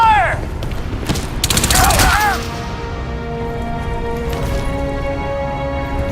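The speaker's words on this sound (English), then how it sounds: "Incoming fire!" Gunfire in Crysis 2 Remastered erupts as a dense, loud fusillade of shots and impacts for about two seconds, then gives way to a lingering mechanical hum and ringing tones.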